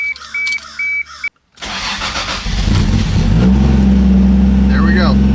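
A Toyota Supra engine cranks and fires up after a short beep and a brief silence, then settles into a loud, steady idle close by.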